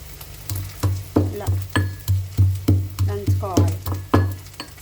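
Ivy gourd (tindora) fry in a pan, a steady sizzle under a regular rhythm of about a dozen scraping stirs, close and moderately loud, with no talking.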